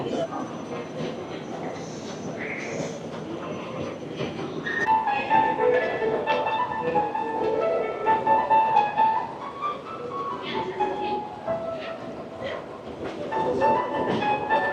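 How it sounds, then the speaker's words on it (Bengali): A Rapid KL metro train rolls through Pasar Seni station in Kuala Lumpur, with a rumbling, clattering run and rising mechanical whines, and voices faintly underneath. "এবার আমাদেরকে এই যে র্যাপিড এই র্যাপিড ট্রেন নিতে হবে"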